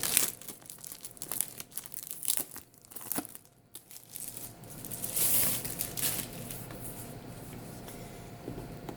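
Plastic wrapping crinkles and tears close up as a boxed faux leather journal is unsealed, with uneven bursts of rustling and crackle and no speech.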